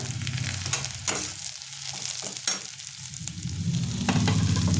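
Tomato added to chilli fish frying in a pan, giving a loud continuous sizzle with stirring scrapes, the hiss swelling louder toward the end.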